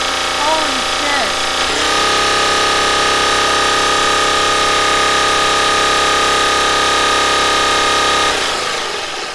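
A loud engine with no pistons or crankshaft fitted, a stripped engine running hard: after a short lead-in with some voices, a dense steady roar swells at about two seconds and holds at full volume, then cuts off abruptly near eight seconds.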